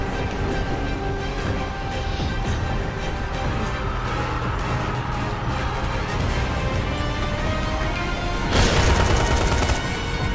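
Dying Light video game combat: rapid gunfire and rumbling clatter run throughout, then a loud, sudden explosion bursts in near the end and lingers briefly.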